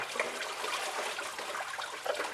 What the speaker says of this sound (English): I'm just going to go ahead and wiggle back and forth on this, and a little more coolant will spill out